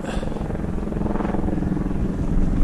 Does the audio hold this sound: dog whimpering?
no